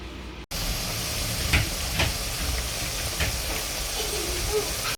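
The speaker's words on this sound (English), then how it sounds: "I'm gonna dip my wedges in and then I'm gonna fry" Potato wedges dipped in coconut milk frying in hot oil give a steady, loud sizzle and hiss. It starts abruptly after a brief quiet moment and carries on evenly with occasional louder pops.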